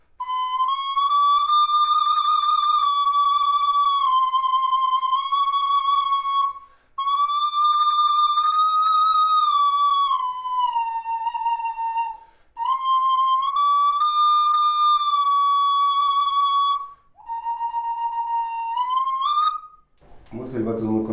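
An ancestral Mexican multiple whistle shaped like an eagle sounds in four long, piercing tones, each holding a steady pitch with a slight waver and separated by brief breaths, ending in a short rough rasp.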